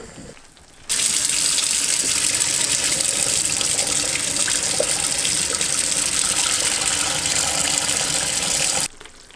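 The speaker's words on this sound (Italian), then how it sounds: "vado a scolare la pasta" Pasta water poured off into a kitchen sink, a loud steady rushing stream of liquid that starts abruptly and runs for several seconds before cutting off.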